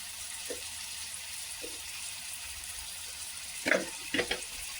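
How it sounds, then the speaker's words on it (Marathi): Potatoes being sautéed in a pan give a faint, steady sizzle, broken by a few soft stirring scrapes and clinks near the end. "बटाटे पण असतात आपण परतून घेऊया"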